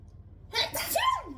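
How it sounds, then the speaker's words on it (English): A single quick sneeze, close and fairly soft, with a sharp intake followed by a burst and a brief trailing vocal sound. "I got the sneezes"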